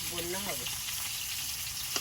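Pieces of kalbose fish frying in oil salted so they don't stick to the pan, a continuous crackling sizzle close by, with a brief voice-like tone near the start and a small clink toward the end.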